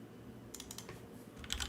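Typing on a computer keyboard during programming work, a quiet burst of keystrokes after a pause, then a few sharper clicks near the end, close and alone.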